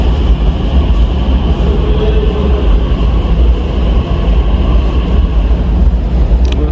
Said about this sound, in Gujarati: આવી ગઈ મેટ્રો જો ને